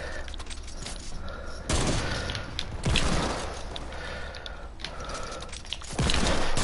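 Sniper rifle shots ring out in a video game, a few loud, sharp bursts spaced seconds apart over steady background game noise.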